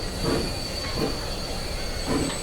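A train in the railway game Transport Fever 2 rumbles steadily with soft wheel squeal and hiss, a continuous rolling noise at moderate level with no one talking.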